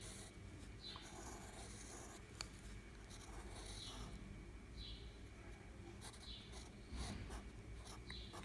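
Pencil drawing on paper while sketching a comic character's skull: steady soft scratchy strokes come in repeated short sweeps, close and quiet, with no talk.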